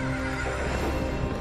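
A horse neighs in the video game Wo Long: Fallen Dynasty, a brief whinny over a steady, dense game soundscape with no talk.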